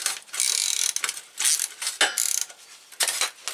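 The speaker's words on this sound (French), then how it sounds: "Bon, ça se dévisse assez facilement." Rear wheel bolts on a BMW R1200RT LC motorcycle are loosened with a ratchet, producing quick, close metallic clicking runs in several short bursts with brief gaps between them.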